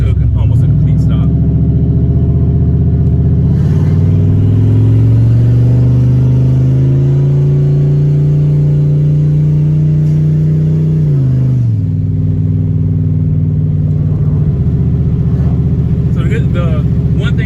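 A turbocharged car engine runs steadily and loudly from inside the cabin, its drone rising in pitch then dropping back near idle, with someone speaking over it.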